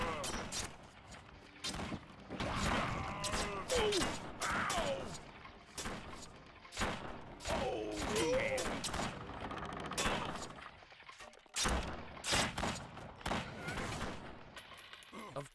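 In the video game Battle Realms 2, troops fire repeated musket-like volleys with sharp, irregular bursts of gunfire. Shouted commands and voices come between the shots.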